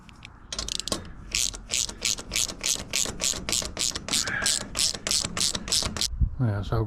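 Rapid, evenly spaced clicking of a ratchet strap being cranked tight around a steel ridge beam in a garden build, about twenty sharp close ratchet strokes in a steady rhythm, then a brief voice at the end.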